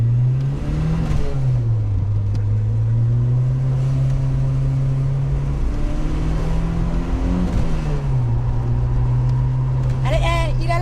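A Renault 21 with a 2-litre turbo engine revs loudly up and down in repeated swells from close range, with brief voices around it.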